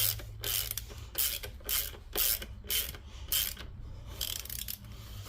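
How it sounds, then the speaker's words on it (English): A ratchet tightens the transmission bolts on an 1985–2004 Ford Mustang T5 gearbox, working in a crisscross pattern. Close, crisp clicking comes in about nine even bursts, with a low hum underneath and no talking. "Tighten it down evenly in a crisscross pattern, just like tightening a wheel down."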